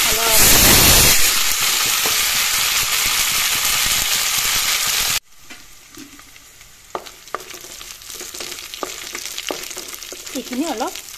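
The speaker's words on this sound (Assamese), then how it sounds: "এইফালেও কুকাৰটো চিটি মাৰিব ধৰিলে" A pressure cooker cooking fish curry with kohlrabi lets out a loud, sustained steam hiss for about five seconds, then it cuts to a quieter kitchen with scattered clinks and a soft background sizzle.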